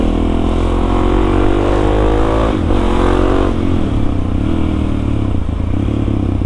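A Suzuki DRZ 400 supermoto motorcycle on a city street in Bandung runs loud and close, its engine note rising as it revs and accelerates, then dipping and holding a steady rumble, with some mechanical clatter.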